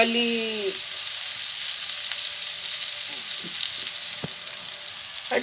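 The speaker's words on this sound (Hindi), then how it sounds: "2 चम्मच ऑयल के डाल के इन्हें थोड़ा सा फ्राई करेंगे।" Chicken and cartilage frying in about two spoonfuls of oil, a steady, close sizzle that runs throughout with a few faint clinks of stirring and no talk.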